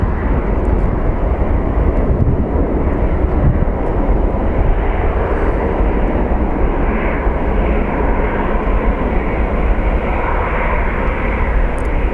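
A United airliner takes off from a long runway at Phoenix Sky Harbor, its jet engines roaring loudly and steadily throughout, with a broad, constant rumble and no pause.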